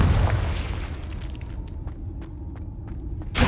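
A Confringo blast spell cast in the Hogwarts Legacy game gives a loud, deep booming burst at onset, then a sustained rumble and crackle that fades, with another sharp burst right at the end.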